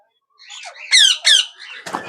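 A moulting pet parrot in an open breeding colony gives a run of harsh squawks and chirps, with two loud screeches in the middle, close by and without talk.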